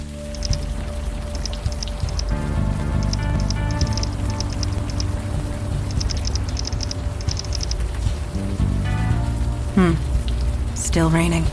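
Steady rain falls across a night scene in the video game Unavowed, a continuous wash of patter under a musical score, with a voice speaking partway through.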